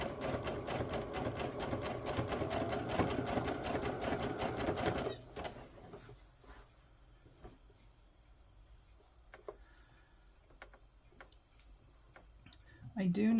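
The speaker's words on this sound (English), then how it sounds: "I don't know if anybody else gets a heavy foot when they start off on their sewing." A sewing machine stitches in rapid, steady bursts for about five seconds, then stops, leaving a quiet room with a faint high hum and a few small clicks.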